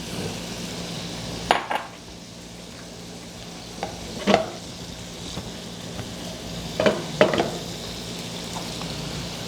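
Garlic and mushrooms sizzle in a pan under a steady hiss, with a spatula or spoon scraping and clinking against the metal in several distinct strokes, close and alone without speech.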